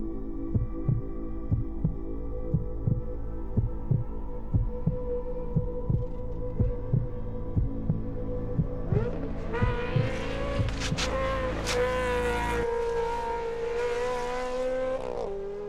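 Ferrari 360 Challenge racing car at a hillclimb, starting with a deep pulsing idle and then breaking into a loud rising engine snarl with sharp revs near the end.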